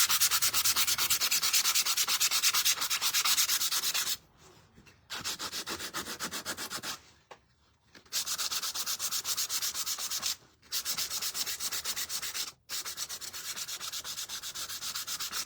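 Sandpaper rubs across a painted wooden gingerbread plaque in close, steady strokes, broken by several short pauses between bursts of scratchy sanding.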